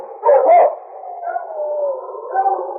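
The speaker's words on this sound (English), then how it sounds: "wolves were howling in the forest not far away" Several wolves howl in a forest as a radio-drama sound effect, long wavering cries rising and sliding together, loudest near the start and then sustained in overlapping tones, with no voices over them.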